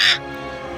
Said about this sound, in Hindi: ये पक्षी क्या बोल रहा है?